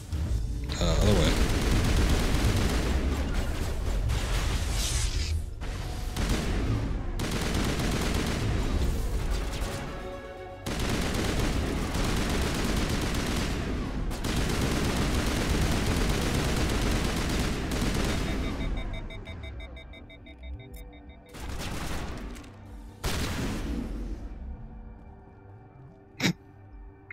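Heavy gunfire rattles through a sci-fi firefight against Geth in Mass Effect, dense bursts of shots and booms pounding almost continuously, then thinning into scattered sharp cracks near the end.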